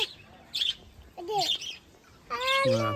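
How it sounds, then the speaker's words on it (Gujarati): Several caged parrots at a cow shelter garden in Salangpur give short squawking and chirping calls in separate bursts, ending in a louder harmonic screech, with no talk over them. "ઘણા બધા પોપટ છે અંદર"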